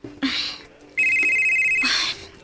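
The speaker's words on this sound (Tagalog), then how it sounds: "si Claire nanawag na ako" A telephone rings in short electronic bursts, two or three rings separated by brief gaps, fairly close and clear, with faint talk around it.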